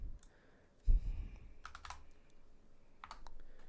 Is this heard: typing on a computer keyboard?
yes